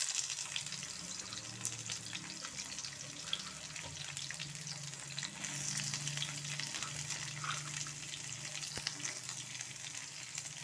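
Halved onion and tomato sautéing in a pan for road-style kothu parotta, a steady soft sizzle with low bubbling, moderately close and even, with faint scraping touches and no voices.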